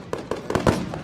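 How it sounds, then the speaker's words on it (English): Fireworks bursting at an outdoor show set off behind a tree line near a golf course, a quick run of sharp booming pops at close-to-moderate distance, several blasts in about a second with one louder burst near the end. "Here we start to get all the main meat of the fireworks."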